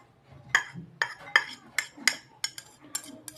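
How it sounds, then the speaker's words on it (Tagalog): Onion, garlic and ginger being mixed in a bowl for dinakdakan, heard as about eight clear clinks of a utensil against the bowl, each a short, fairly close tap in an uneven rhythm with no talking. "Imimix natin siya dito sa bowl."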